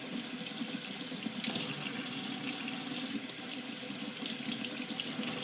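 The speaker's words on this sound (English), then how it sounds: "Run it under the water, not on top of it." Tap water runs steadily into a sink while makeup brushes are rinsed under the stream, a close, constant splashing rush with no speech over it.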